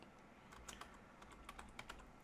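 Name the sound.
typing a folder name on a computer keyboard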